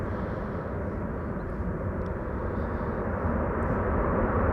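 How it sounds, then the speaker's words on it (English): A Delta Airbus A330-300 from Detroit touching down at Amsterdam Schiphol with thrust reversers applied produces a constant low jet rumble that builds slightly louder toward the end, heard from afar without speech. "Delta A330 300 from Detroit. Thank you, Marissa. Erik, goedemorgen. Reversers being applied there."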